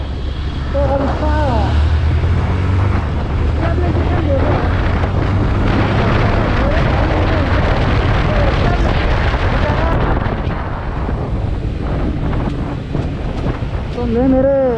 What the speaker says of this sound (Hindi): बहुत तेज़ गरम हवा आ रही है